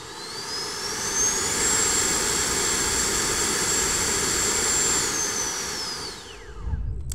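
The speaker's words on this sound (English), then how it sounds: "Next up is a thrust test." FMS 80mm electric ducted fan RC jet on a thrust test stand spools up to a loud, steady high-pitched whine, holds full power for several seconds, then winds down; no talking.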